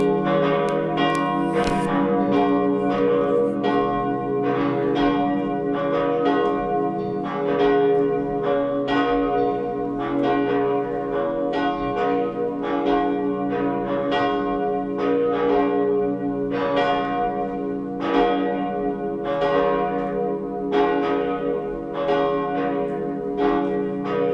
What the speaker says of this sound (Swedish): Så får vi lyssna till klockringningen.